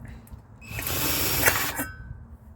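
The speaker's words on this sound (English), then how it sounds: "You have to drill down on it again" A power drill whirs up and runs for about a second while making a camping stove, close by, then stops.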